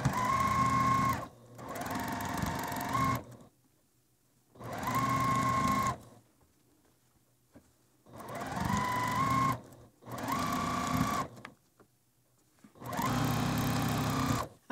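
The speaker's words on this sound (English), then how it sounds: "we're going to take these to the sewing machine and just sew down this far side" Sewing machine stitching a seam on a four-pinwheel quilt block, running in six loud bursts of a few seconds each with short silent pauses between them.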